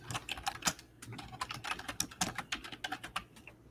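Several people type rapidly on computer keyboards at once, producing dense, irregular clusters of quiet clicks and clacks at close range with no talking.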